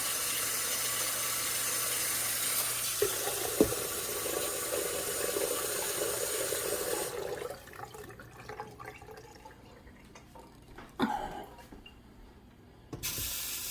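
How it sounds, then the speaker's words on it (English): Tap water runs steadily into a pot, about half a gallon, with a rising, hollow rush, then stops; afterward a few clinks, drips and small handling noises follow. "So I'm going to fill it up about half a gallon of water."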